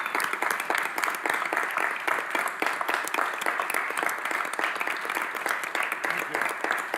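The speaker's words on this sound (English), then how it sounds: "Can we all get a round of applause for Coach Vitello?" An audience applauds Coach Vitello at a Knox County, Tennessee community gathering, with dense, sustained clapping from many hands filling the room for several seconds and no speech over it.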